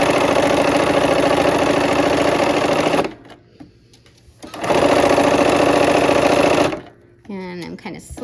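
A sewing machine stitching quilt pieces runs in two loud, close bursts of rapid whirring and needle chatter, pausing briefly between them, with a voice speaking at the end.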